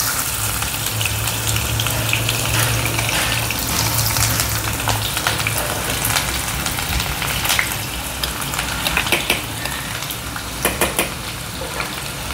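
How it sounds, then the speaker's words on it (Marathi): Chopped onion sautéing in hot oil in a pan for ragda, giving a steady, dense sizzle throughout with scattered stirring clinks and scrapes of utensils against the pan. "कांदा थोडासा परतून घेऊया"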